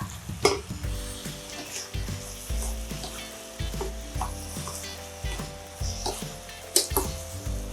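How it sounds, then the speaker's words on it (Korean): Fish cakes and onion being stir-fried in a pan give a steady sizzle, broken by repeated scraping and stirring strokes of a utensil against the pan, close and moderately loud, with no talking. "어묵을 고슬고슬하게 볶아주세요."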